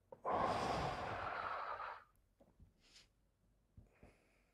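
A single deep breath drawn in loudly and close for nearly two seconds, followed by quieter soft exhales and faint breathy sounds with pauses between them.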